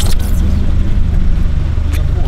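An Abarth race car in the H&R Cup on the Nordschleife produces a steady low engine rumble from inside the cabin, with people talking over the drone.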